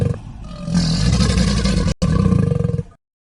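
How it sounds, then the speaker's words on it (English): A crocodile gives a deep, throaty growling roar, loud and close, pulsing in two bursts separated by a brief break before cutting off. "crocodiles"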